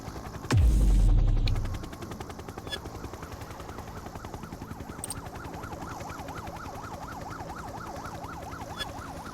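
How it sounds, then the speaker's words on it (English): Police sirens in The Precinct video game wail in a steady, rising-and-falling cycle that carries through the scene after a brief loud, low boom at the start. "I can hear the sirens all the way up here"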